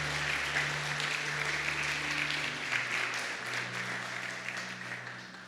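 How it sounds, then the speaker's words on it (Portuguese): A church congregation at a family service applauding, a dense, even wash of many hands clapping together for several seconds, with a low sustained tone underneath before fading slightly. "Você pode aplaudir Jesus bem forte."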